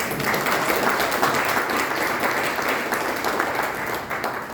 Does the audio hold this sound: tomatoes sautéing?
no